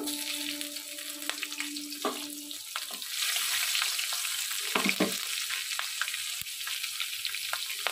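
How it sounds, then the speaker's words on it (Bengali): Chopped garlic and slit green chillies sizzle and crackle steadily in hot oil up close, with a continuous loud frying hiss, a few stirring clinks and no talking. "এবার আমি কাঁচা লঙ্কা চেরাগুলো এতে দিয়ে দেব।"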